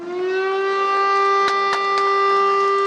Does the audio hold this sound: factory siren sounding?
yes